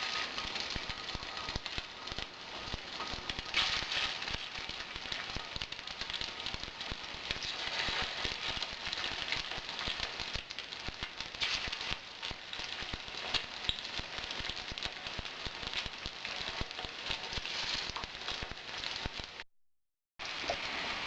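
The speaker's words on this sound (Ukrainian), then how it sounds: "Ми налили олію і ставимо жарити наші рулетики" Rolls frying in hot oil in a pan give a dense, steady crackling sizzle close up, alone, with a brief cut to silence near the end.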